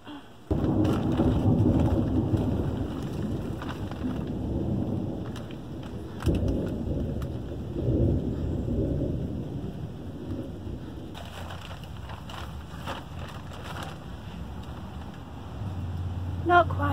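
Steady rain falls during a thunderstorm, a constant hiss with low rumbling swells of thunder, the wash rising and easing over the span, with faint sounds of someone moving nearby.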